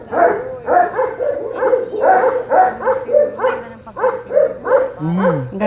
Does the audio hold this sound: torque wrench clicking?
no